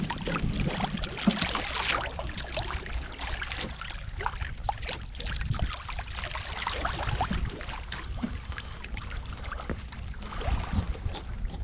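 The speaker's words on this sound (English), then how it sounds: "We're just sailing along." A sailboat moves along a flat calm sea, its hull giving soft steady water rushing and splashing, with light creaks and rattles aboard, moderately close and fairly quiet.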